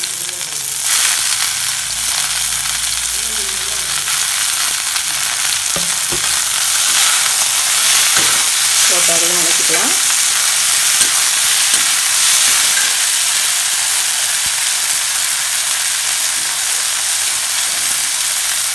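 Washed coriander leaves sauté for coconut coriander chutney, hissing and sizzling in a hot pan as a loud, continuous fry, close by, with occasional stirring clatter.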